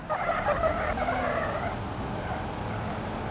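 Car tyres skid and squeal under hard braking in the BeamNG driving game, a loud, close, wavering screech that fades after about two seconds into steady engine and road rumble, with no talking.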